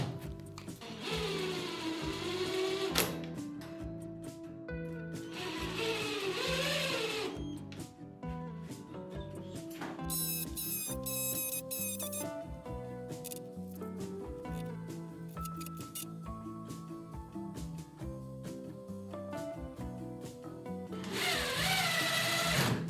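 Whirring bursts of a powered screwdriver driving screws into plastic wall plugs, several short runs starting and stopping with buzzy motor pitch changes, close and moderately loud.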